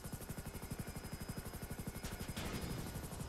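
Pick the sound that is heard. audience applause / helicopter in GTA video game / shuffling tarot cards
helicopter in GTA video game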